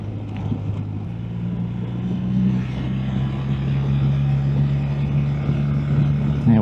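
A car engine droning steadily while overtaking on a South Island road, heard from inside with a low hum that rises slightly in pitch as it accelerates, under wind and road noise.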